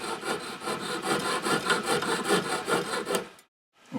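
A small file or saw rasps back and forth on the pin of a silver locket clasp, a quick rhythmic scraping close by, then stopping abruptly.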